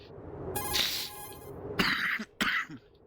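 A few harsh coughs, close and fairly loud, come in quick bursts with short silences between them.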